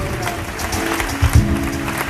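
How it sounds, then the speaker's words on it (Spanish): Applause from the audience at a flamenco cantaora performance in Chiclana, dense clapping throughout alongside a steady low hum and a couple of heavier thumps. "damos un aplauso a mi Víctor Torres"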